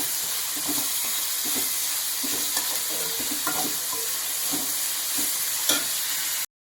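Onions and green chillies frying toward golden brown in a pan for a Telugu okra curry, with a dense, even sizzle and a few soft spatula scrapes, close and fairly loud with no voices, ending abruptly.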